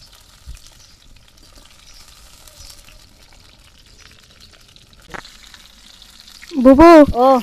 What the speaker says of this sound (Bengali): পটল গুলো তো ভাজা হয়ে গেছে এখন তোলা